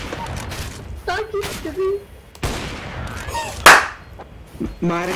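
Gunfire in the CS:GO video game comes as sharp bursts and single shots scattered through the game's other sounds, with a loud crack near the middle. People talk and laugh over it.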